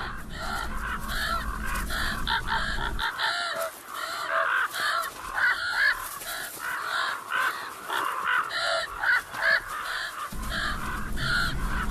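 Crows cawing repeatedly, drawn in numbers to a deer carcass left by hunters during hunting season in the mountains; harsh calls overlap and carry on throughout, some near and loud, others farther off, with no talking.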